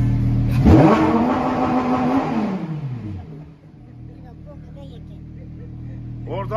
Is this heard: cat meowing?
no